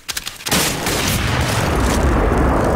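Gunfire from Counter-Strike: Global Offensive during a 1v1 match: a few light taps, then a loud, dense burst of shooting that keeps roaring steadily to the end.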